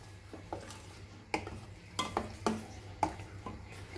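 Fish curry gravy of sole kokum and bangda mackerel, thinned with added water, is stirred in a pot: a spoon knocks and scrapes the pot in scattered, fairly close clinks, with a faint low hum running underneath.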